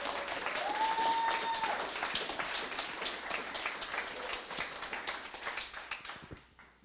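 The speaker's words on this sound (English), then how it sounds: "Everybody give Chris another round of applause." A meetup audience claps for a speaker during a talk on debugging and Ionic web and mobile app development, dense steady applause that tapers toward the end, with a brief faint tone near the start.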